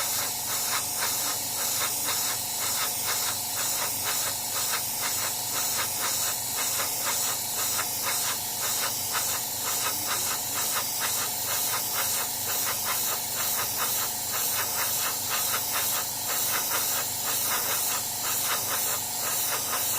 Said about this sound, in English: from a reasonable distance to get a nice wide spray pattern for this